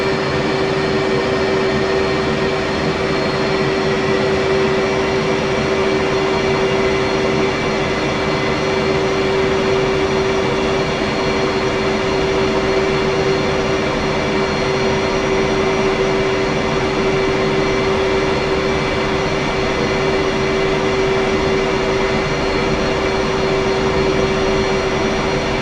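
Twin turbine engines of a Ka-50 Black Shark attack helicopter taxiing in the DCS combat flight simulator, a loud, steady whine and roar with a sustained tonal hum, unbroken for the whole stretch.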